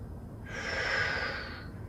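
A single slow, deep breath taken during a yoga flow, heard close and soft as one airy exhale that swells and fades over about a second.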